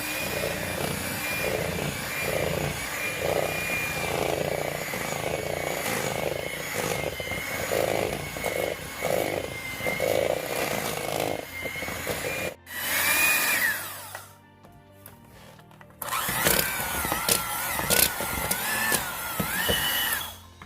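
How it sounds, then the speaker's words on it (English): An electric hand mixer runs on low while mixing flour into spritz cookie dough, giving a steady close whirring drone that cuts out briefly and then resumes. "Now I'm gonna add my flour. My mixer is on low,"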